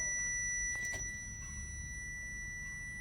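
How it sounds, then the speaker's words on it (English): An aftermarket boost gauge in a Ford Transit Connect van beeps a high, steady electronic over-boost warning tone, continuous and fairly faint over low engine rumble. "Why is it beeping like that? Because it's over boost or what?"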